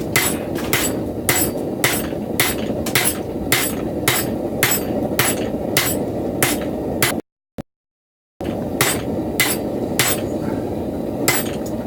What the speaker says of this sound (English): Use the flat side of the hammer, kind of.